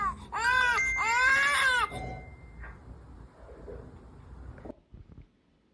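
Baby crying during a demonstration of a baby-cry detection app, two loud sustained wailing bursts in close succession, then fading into quieter low noises and a few soft knocks.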